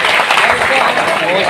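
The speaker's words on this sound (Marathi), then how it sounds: "जोरदार टाळ्या माझ्या विद्यार्थी मित्रांसाठी" Loud, continuous applause from a crowd honouring students at a coaching class farewell ceremony, a brief, thick wash of clapping with no pause.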